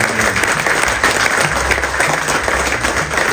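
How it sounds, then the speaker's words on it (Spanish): A congregation applauds at a religious novena for San Nicolás de Bari, with loud, dense, continuous clapping from many people that holds steady throughout, with no speech on top. "Vamos a darle un aplauso a San Nicolás de Bari"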